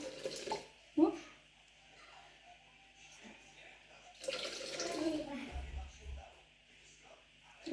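Water pours into a Thermomix bowl for broccoli soup, a soft running splash at moderate distance with short gaps and louder bursts, while a person talks quietly nearby.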